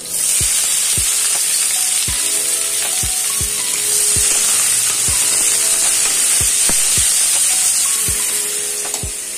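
Chopped onions sizzle in hot oil for a tempering, a loud, continuous close frying hiss broken by regular clicks of a utensil stirring the pan, no talk.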